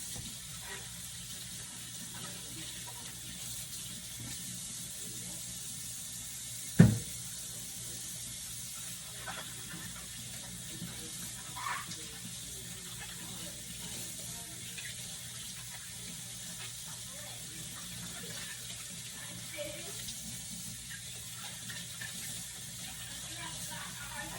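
Tap water running into a sink while two celery stalks are rinsed, a steady soft hiss of flowing water throughout with one sharp knock partway through and faint handling sounds.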